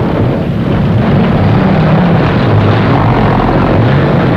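A propeller airplane drones loudly and steadily at an airfield, a continuous broadband engine roar filling the whole stretch without letup.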